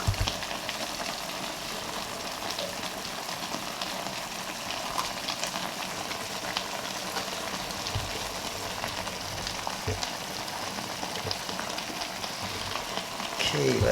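Coconut milk bubbles into curry chicken in a pot, a steady sizzling and frying hiss with soft stirring scrapes, continuous and close.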